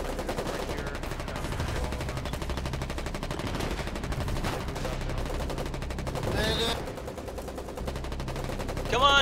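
Bursts of automatic and single-shot gunfire from the online war game Foxhole crackle in a dense, rapid rattle at steady moderate loudness, with a sharper, louder volley near the end.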